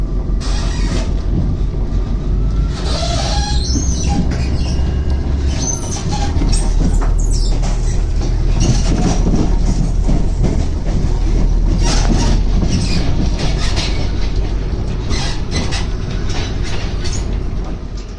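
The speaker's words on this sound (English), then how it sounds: "So we're just arriving right now at Shrewsbury, and the train will undergo a reversal here." British passenger train rolling into Shrewsbury station, a continuous heavy rumble with clattering wheels and occasional faint squeals, steady and close throughout.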